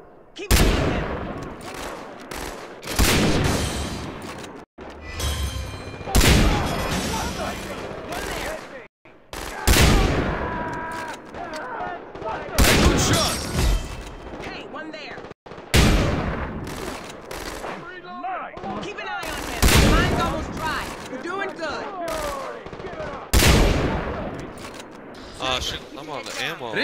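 Gunfire in the video game Far Cry 3 during co-op sniping, with loud repeated shots and bursts spread across the whole stretch and brief pauses between volleys, mixed with voices talking and shouting over the shooting.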